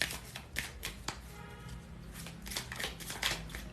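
Romance angel oracle cards being shuffled by hand, a soft papery riffling with repeated flicks and slaps, close and fairly quiet with no talking.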